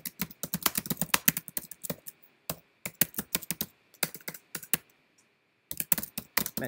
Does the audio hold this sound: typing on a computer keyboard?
yes